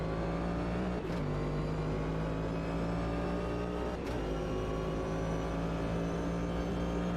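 Race cars in Automobilista 2 at an IMSA multi-class race, a Corvette among them, with a steady droning engine note and two quick pass-by swells about three seconds apart.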